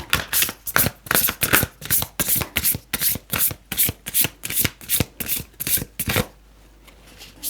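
Tarot cards shuffled by hand from a deck, a fast run of crisp riffling bursts in steady rhythm, close and loud, stopping abruptly near the end into quiet.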